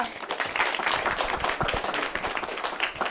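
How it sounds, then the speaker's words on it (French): Audience clapping during a live web TV show, a dense burst of close, crisp handclaps sustained for the whole stretch. "On peut l'applaudir."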